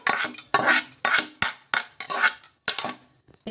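A spoon clatters against a pot while fried dosa batter mixture is stirred, a run of repeated metallic scrapes and knocks in a steady rhythm, close and fairly loud, with no voices.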